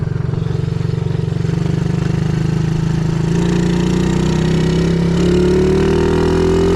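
A small SyxMoto ATV engine with a centrifugal clutch runs steadily through a lap, a loud close drone holding near idle before the pitch climbs slightly as it revs, with no talking.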